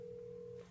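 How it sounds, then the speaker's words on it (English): A telephone rings indoors with a single steady electronic tone that holds evenly and then fades away, fairly quiet and heard alone. "Now the phone's ringing."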